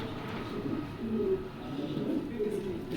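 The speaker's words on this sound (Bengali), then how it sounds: "তো দুই জোড়া কবুতরে দেখাবো।" Black racer pigeons coo softly close by, low repeated throaty calls over a murmuring background, while someone talks.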